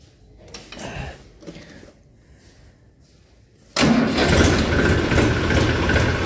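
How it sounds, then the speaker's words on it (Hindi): A small Massey Ferguson 35 tractor cranks with scattered mechanical clatter before its diesel engine catches abruptly and settles into a loud, steady, rumbling idle close by. "लेकिन पहले ट्रैक्टर स्टार्ट कर लेते हैं।"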